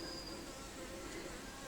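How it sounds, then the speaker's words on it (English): A blue-banded bee, a small native bee, buzzes steadily and faintly among verbena, dahlias and straw flowers in a courtyard garden in early winter, with a continuous hum and no talk. "That's the blue-banded bee buzzing around"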